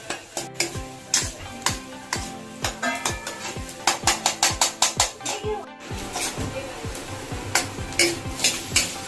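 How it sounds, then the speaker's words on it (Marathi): Finely chopped onion sautéing in a pan for a spicy crab curry, with a spatula stirring and scraping in quick rhythmic strokes and clattering against the pan over a light sizzle, close and fairly loud, no talk. "आता भाऊंनी बारीक चिरलेला कांदा परतून घेतला"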